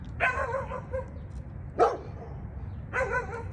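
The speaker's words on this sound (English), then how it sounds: "Oh, their dogs learned to bark too." Dogs barking outdoors, three separate bark bursts spaced a second or more apart, moderately loud and a little distant, over a low background rumble.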